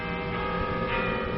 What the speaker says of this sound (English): What are those bells clanging about?